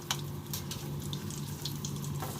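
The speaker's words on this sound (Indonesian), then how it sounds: "Saya akan goreng tahunya sampai matang atau sampai kering ya teman-teman." Tofu frying in boiling oil, a steady close crackling sizzle with a constant low hum underneath and scattered louder pops, with no talking.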